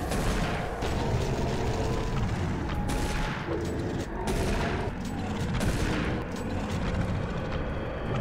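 Gunfire from shooting enemies in Doom 3, a dense, continuous barrage of loud shots and booming impacts filling the whole stretch, with no voices.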